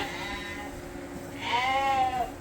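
A sheep in a breeding flock bleats once, close and clear, with a quavering call after a fainter earlier murmur, and no talking over it.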